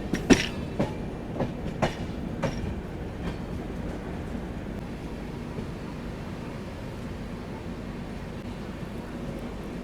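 The 20840 New Delhi–Ranchi Rajdhani Express runs through Chandrapura Junction with steady rolling rail noise and a few sharp wheel clacks early on, heard continuously from inside.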